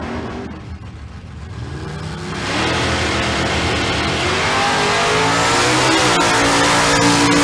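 A 1991 Calais and a Duster race side by side at Famoso Dragstrip bracket drags, engines building from a distant rumble into a loud sustained roar as the cars accelerate past.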